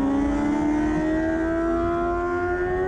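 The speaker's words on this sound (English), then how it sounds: "I had to go with the GP exhaust on this bike" A 600cc sport motorcycle with a loud GP exhaust wails upward in pitch as it accelerates hard on a racetrack, a raspy sustained high-revving exhaust note with no talking.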